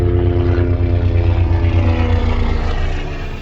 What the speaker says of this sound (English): I gotta excuse that helicopter.